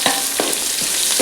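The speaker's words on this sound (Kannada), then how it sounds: "ಅದೇ ಈಗ ಇಲ್ಲಿ ಒಗ್ಗರಣೆ ಹಾಕಂತೆ" Chillies, including round chillies, crackling in hot oil as a tempering for a Kundapura-style colocasia leaf dish, a loud continuous sizzle broken by a few stirring scrapes, no voices.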